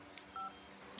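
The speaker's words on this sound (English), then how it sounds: "let's call Aisha" A phone dials out to make a call: one short two-tone dial beep sounds clearly in a quiet room, set between soft clicks.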